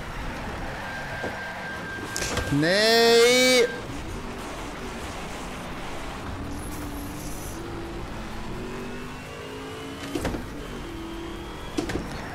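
A Ford GT engine in the racing game Need for Speed Shift rises sharply to a loud rev at the gear shift point, then drops to a quieter steady drone with faint clicks. A voice gives a short exclamation.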